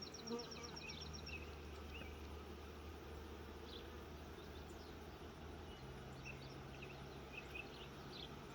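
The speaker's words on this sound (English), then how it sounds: "And the bees are busy" Continuous dense buzzing of many honey bees close by at a hive in hot, humid summer weather, steady and unbroken throughout, with faint bird chirps in the background.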